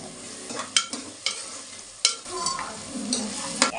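Ginger and garlic hit hot oil in a pan for a drumstick and capsicum curry, sizzling steadily up close with several sharp clinks of a stirring spoon against the pan.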